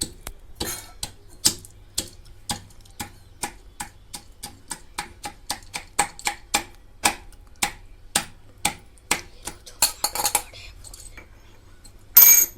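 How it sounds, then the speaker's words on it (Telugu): Almonds pounded by hand, a run of about two dozen sharp, evenly spaced thuds in a steady rhythm, close and clear over near silence, ending with a short cluster of quicker knocks. "బాదం పప్పుల వరకు మళ్ళీ విడిగా దంచుతా"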